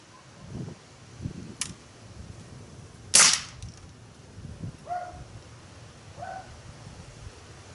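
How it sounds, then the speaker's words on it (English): A Crosman Iceman CO2 pellet pistol fires one sharp, loud shot at a bottle target outdoors, the crack standing alone against steady wind noise and a few faint background knocks. "See if I can shoot it right through the bottle into the cap."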